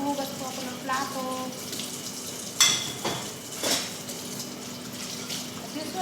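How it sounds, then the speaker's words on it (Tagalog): Dishes being washed at a kitchen sink: steady running tap water with occasional clinks of plates, and a sharper clatter midway, close and continuous, with faint voices in the background. "Naghuhugas po ako ng plato."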